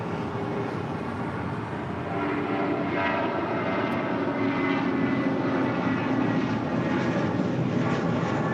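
Southwest Airlines Boeing 737-800 jet at LAX, bound for Albuquerque, producing a steady, loud, broadband engine roar that holds throughout with no speech over it.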